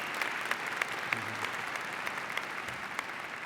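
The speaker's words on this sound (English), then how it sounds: "Let's give her another round of applause" Audience applause at a fall university convocation ceremony, a steady wash of many hands clapping that holds evenly and fills the room.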